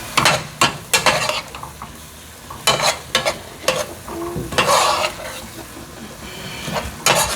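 Spinach is turned over in a cooking pot with a utensil, producing irregular scraping and clattering strokes over a soft background sizzle, with no voices.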